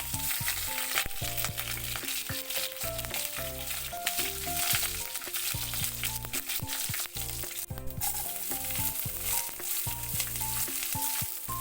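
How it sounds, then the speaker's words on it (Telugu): Tempering spices crackle and pop in hot oil while a moong dal and tomato curry is started, a dense, steady crackle running the whole stretch beneath a tonal music bed. "ఆయిల్ వేడిగా ఉంటే తాలింపులు చిటపట్లాడతాయండి"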